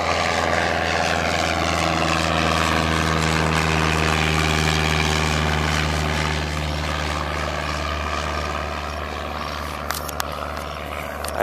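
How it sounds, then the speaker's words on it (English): A small propeller airplane doing a touch-and-go, its engine droning steadily and loud throughout with a hum that eases slightly toward the end as it climbs away for a second takeoff. "He's doing a touch and go, and he's already done it. Down and up again. Second takeoff."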